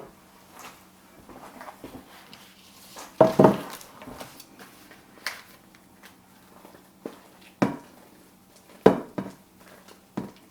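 Frozen fruit salad mixture is spooned and scraped into a pan in a home kitchen, giving soft, scattered clunks and a few sharper knocks of utensil on cookware, fairly quiet with pauses between.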